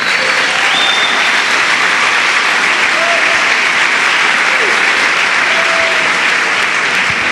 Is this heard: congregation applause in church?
yes